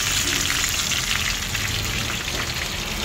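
Tilapia fries in a pan of hot oil, a loud dense sizzle and crackle close by, continuous and alone without any voices.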